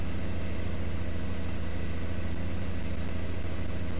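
A tractor engine running in Farming Simulator 2015, a constant loud low rumbling drone with a steady mechanical hum, unbroken and close throughout with no voices.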